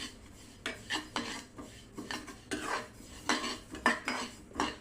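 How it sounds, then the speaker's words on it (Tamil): A utensil stirs black sesame seeds dry roasting in a pan over low flame, making rhythmic scraping strokes about twice a second, close and moderately loud, with faint rattling between strokes. "இப்போ எள்ளும் வறுத்து எடுத்துக்கிறேன் லேசாக"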